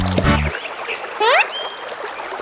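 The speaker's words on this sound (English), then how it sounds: "Suddenly, a hoarse quack comes from below Mama Duck." A duck from an animated children's story gives a single brief, hoarse quack that rises in pitch, following a short low honk, against soft background noise.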